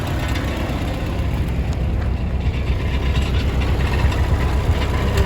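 A loud, steady engine of an old Ford 8N tractor chugging at idle nearby, a low rumbling throb that holds constant throughout with no voices.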